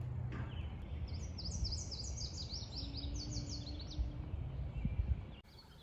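A male yellow warbler sings repeated bright, high-pitched phrases in a North Carolina birding patch, a steady run of sweet notes over low background rumble that cuts off near the end.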